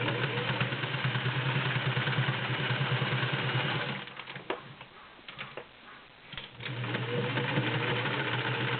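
A Singer 603 Touch & Sew all-metal, gear-driven sewing machine stitches through six layers of denim at moderate speed. Its steady, close mechanical whir briefly slows and eases off midway, then resumes.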